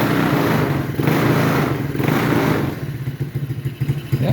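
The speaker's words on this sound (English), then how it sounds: "Yeah, runs this little bike no problem." A small electric four-wheeler bike running on a booster pack converted into a battery gives a loud, steady motorized whir with clattering and thumping, then turns choppier and pulsing toward the end.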